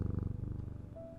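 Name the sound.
cat purring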